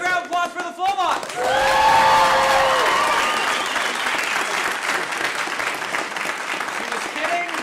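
A concert crowd at a show breaks into loud sustained applause with whoops and cheers, following a brief shout, while a voice speaks over the clapping.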